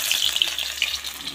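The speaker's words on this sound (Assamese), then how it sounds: "পিঁয়াজখিনি কেৰাহীত দিলোঁ" Onions frying in a kadai, a close, steady sizzle with crackling spits and light stirring scrapes across a brief moment.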